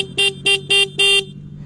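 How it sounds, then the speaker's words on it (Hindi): A Yamaha R3 motorcycle horn honks four times in quick succession, loud and close, the last beep held slightly longer, with no voices. "हॉर्नटा सुनी दियो केम लागुछि।"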